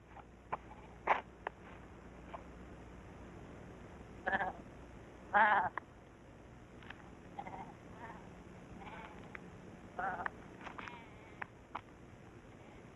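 Goats bleat in the Ladakh Himalayas, several short calls scattered across a quiet outdoor scene, two louder and nearer, others faint and distant, with soft clicks and insect-like ticks between.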